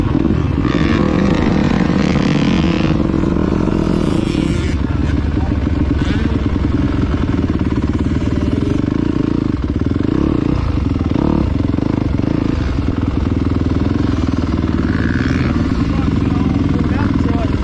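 Two small motocross bikes, a Husqvarna TC50 and a KTM 85, ride on a motocross track, their engines droning and revving steadily throughout, with wind buffeting and rattling, while people talk over the motor noise.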